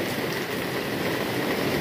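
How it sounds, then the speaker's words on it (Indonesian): Steady rain falling close by during outdoor work on a Toyota Camry engine, a dense, even hiss of drops with no pauses and no voices. "Hujan, ini hujan-hujanan."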